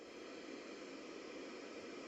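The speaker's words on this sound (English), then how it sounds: "You guys got that static white noise?" Steady static white noise from an ambient sound app, a flat broadband hiss holding at an even level throughout with no other sounds.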